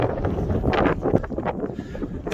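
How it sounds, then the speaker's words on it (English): Strong blizzard wind at -15 degrees roars continuously across an exposed mountain top, buffeting the microphone with loud, gusting rumble and no break. "The wind is like a blizzard, and it's really difficult even to stand in these conditions."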